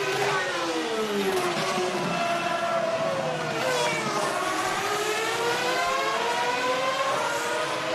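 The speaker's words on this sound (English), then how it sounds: "The cars all making their way through then for another lap under the safety car." Formula One race cars from the 2006 Hungarian Grand Prix drive a lap under the safety car, their engines a continuous loud whine rising and falling as several cars pass, with no talk over it.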